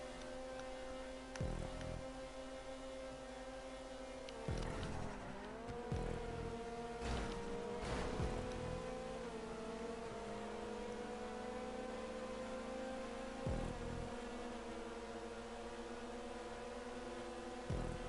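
RUF race car engine in GTA V, a steady droning tone held throughout with a few brief shifts and bumps in pitch, fairly quiet and with no voices.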